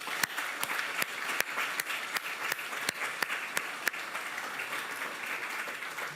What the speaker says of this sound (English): I have to ask for an applause for the man who has been leading us